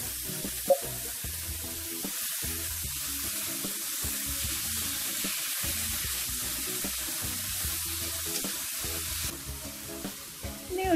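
Tomato and potato stir-fry in a hot pan for a fish soup, making a loud, steady sizzle with scraping stirs across the whole stretch and no talk.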